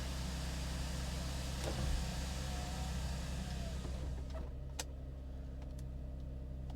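A Gen 5 Chevrolet Camaro engine turns over and settles into a steady, close rumbling idle, with faint ticks and clicks over the running motor and no talking.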